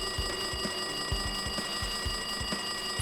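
Repeated electronic ringing of a phone in the video game Danganronpa 2, a short, steady, loud burst that carries on unbroken with no talking.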